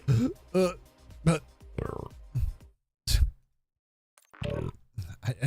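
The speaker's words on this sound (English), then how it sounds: "I'm burping like all day" A man burps several times in close succession, low and guttural, a few short eructations with a brief silent pause midway; nearby and fairly loud.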